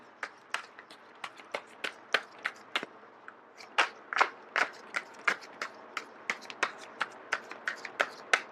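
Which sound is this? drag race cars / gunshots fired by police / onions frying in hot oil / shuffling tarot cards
shuffling tarot cards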